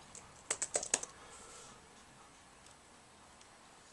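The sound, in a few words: typing on ASUS G73H laptop keyboard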